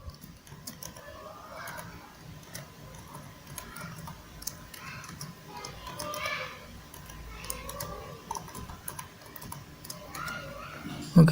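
A password is typed on a computer keyboard during a Linux Mint installation, with quiet, irregular key clicks close by under soft background noise.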